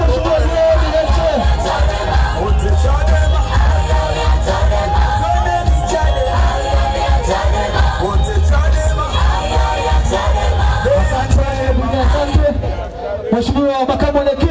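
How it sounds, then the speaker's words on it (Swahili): A large crowd cheers and ululates loudly and continuously for the politician John Heche at an outdoor political rally in Arusha, a dense roar of voices and whoops that eases off near the end. "Shamba na vigelegele kwa mheshimiwa John Heche"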